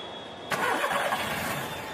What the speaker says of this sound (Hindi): गाड़ी स्टार्ट हो रही है